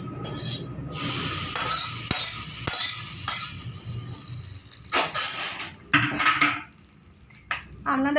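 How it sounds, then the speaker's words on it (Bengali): Chilli and curry leaves frying in hot oil as a tempering for chutney, a close sizzle broken by repeated scrapes and clinks of a spoon stirring against the pan. "লঙ্কা ফোড়ন দিচ্ছি আর কারি পাতা ভালো করে ভেজে নিয়ে"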